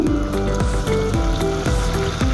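Pork frying in a pan for a Nepali-style gravy, sizzling loudly and steadily as soy sauce goes in, with repeated scraping and stirring strokes coming through the sizzle.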